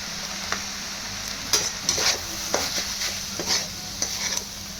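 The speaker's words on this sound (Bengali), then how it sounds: "এবার আমি বেসন যে ভেজে রেখেছিলাম ওইটা দিয়ে দেবো। একটু একটু করে দিয়ে মেশাবো।" Fried gram flour is stirred into minced chicken and onions in a hot pan, with a soft steady sizzle under repeated scraping strokes of a spoon at a loose, even rhythm, close by.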